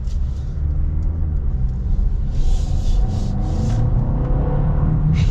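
Steady low road rumble and engine drone from inside a 2024 Mercedes GLA SUV with a 2-liter 4-cylinder engine, cruising at a constant pace with faint tire and wind noise and no talking.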